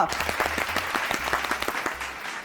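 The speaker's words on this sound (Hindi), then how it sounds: "तालियां" A studio audience on a comedy talk show applauds in a dense, steady burst of clapping that carries on without pause, with no voices over it.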